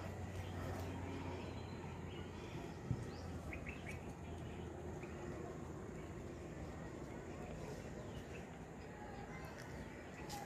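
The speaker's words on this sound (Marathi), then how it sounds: "पक्ष्यांचा बघा किलबिलाट सुरू झालाय." Birds chirping in a mango orchard on an evening after rain, faint scattered calls over a steady low outdoor hum, distant and continuous.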